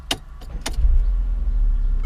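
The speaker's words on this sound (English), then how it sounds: "start the vehicle the traditional way" Two or three crisp mechanical clicks from the key are followed by a Mercedes CLA engine turning over and settling into a low, steady idle rumble up close.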